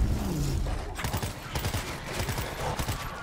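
Gunfire in a shooter video game, heard as rapid, fairly close bursts of shots that repeat in uneven volleys throughout.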